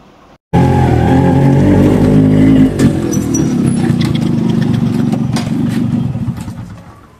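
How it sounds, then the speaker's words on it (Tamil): A vehicle engine starts up close and runs loud and steady, with a rough rumbling idle that slowly fades toward the end. "வண்டி சவுண்டு கேட்குது, பார்த்தல."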